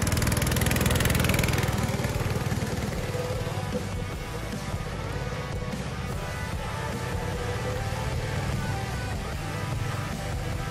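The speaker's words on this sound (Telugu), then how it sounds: "కార్ 100 స్పీడ్ లో ఓడుతుంది" A go-kart engine runs on a karting track at Gurramguda: a loud, continuous buzzing drone that stays steady and close throughout, with no talk over it.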